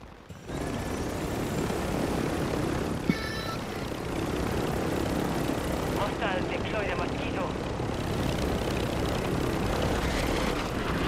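A helicopter's rotor and engine drone loudly and steadily in a multiplayer shooter video game, a dense whirring roar that runs throughout while players talk over it.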